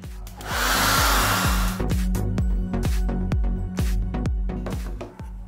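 A hair dryer blows steadily on wet watercolor paint on paper, a loud close whirring rush that runs the whole time, with a repeating plucked musical pattern playing underneath.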